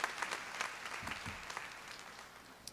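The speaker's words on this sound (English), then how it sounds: "let's give Mohammed another round of applause" An audience applauding a graduate at a business school commencement ceremony in 2014, a soft, thin patter of scattered claps heard from a distance that gradually tapers off.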